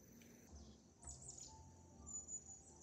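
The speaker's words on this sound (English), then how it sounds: "I love the sound of birds." Faint, distant bird chirps and thin high calls drift over a quiet outdoor background, with short scattered tweets.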